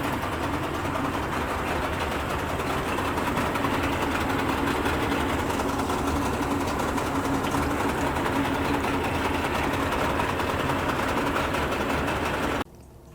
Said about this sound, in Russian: Контрольный запуск.